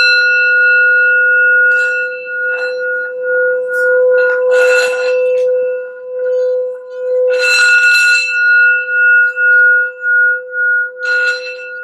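A healing sound bell is struck four times for grounding, each strike ringing out clear and bright, then sustaining a long, steady tone that slowly fades in a quiet room.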